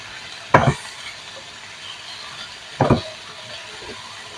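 A masala of tomatoes, garlic and ginger roasts in a pan over a faint background hiss. Two short, distinct scraping stirs stand out a couple of seconds apart.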